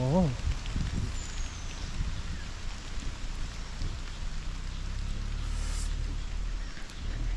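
Steady rain pours down on Doi Inthanon mountain at fourteen degrees, with a constant hiss of drops hitting surfaces, a brief voice at the start and faint low rumbles underneath.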